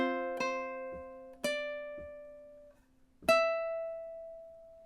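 A ukulele plays measure 16 of a song, three clear plucked strums with low taps between, each ringing out and decaying, close and alone.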